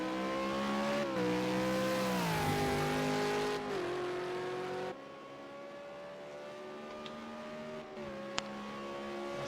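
A V8 Supercar's engine in a racing game at Mount Panorama, Bathurst, roars on continuously at a loud, high pitch, stepping down through gear shifts and easing slightly partway, close, with no talking.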